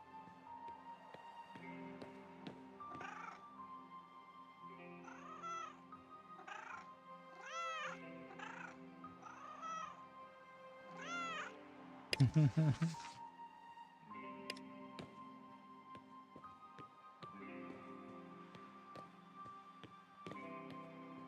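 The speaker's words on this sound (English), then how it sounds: "Another kitty." A cat meows repeatedly in a party-based tactical RPG set in a post-apocalyptic Australian outback, with a string of rising and falling mews over steady game music and a loud thud midway.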